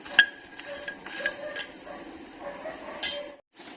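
Makhana is stirred while roasting in a pan over a low flame, giving light clinks and scraping taps against the pan in an irregular rhythm, close and fairly quiet.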